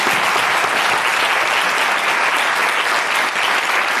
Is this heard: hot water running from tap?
no